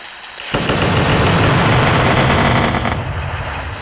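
Firecrackers set off for Pongal burst in a dense, loud, continuous crackling barrage of rapid pops for about two and a half seconds before thinning out.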